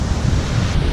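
Ocean surf at Mawun beach on the south coast of Lombok, a steady, loud wash of breaking waves with wind noise buffeting the microphone throughout, no voices.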